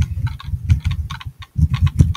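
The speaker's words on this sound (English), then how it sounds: "Oh, we're still typing." Rapid keyboard typing in the game Emily is Away, close and crisp clusters of key clicks in uneven bursts with brief pauses, no speech.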